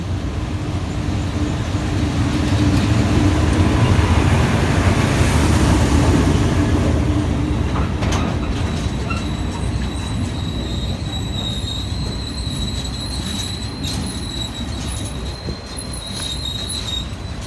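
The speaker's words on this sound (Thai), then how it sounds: "ทำขบวนโดย GEA 4532กำลังจะผ่านสารยานะครับ" A GE GEA-class diesel locomotive, number 4532, hauls a freight train past Salaya station in Nakhon Pathom, Thailand: a steady, loud rumble of engine and rolling wagons, with high wheel squeal ringing out through the second half.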